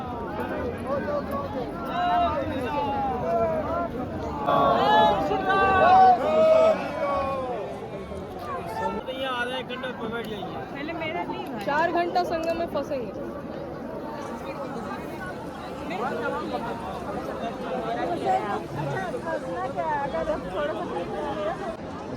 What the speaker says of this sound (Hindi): बहुत ज्यादा भीड़ है उधर ब्रिज पर।